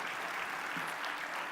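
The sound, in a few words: congregation applause welcoming a guest preacher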